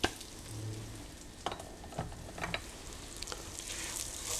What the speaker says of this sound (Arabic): شوفي حبات الرز كيف ما يتحمصوا وعم بيلمعوا من السمنة والزيت